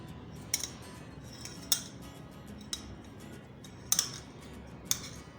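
Crushed ginger being pressed through a strainer to extract its juice: quiet, sparse metallic clicks and clinks at irregular intervals over a soft, hushed background.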